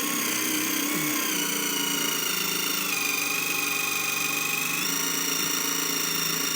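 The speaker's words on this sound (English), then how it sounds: "we'll center punch these and get these drilled out" Whining power drill boring holes with a 1/8 inch bit into a 2020 Jeep Wrangler while fitting Carr custom-fit side steps, a steady high motor tone with slight pitch shifts, close and continuous with no talk.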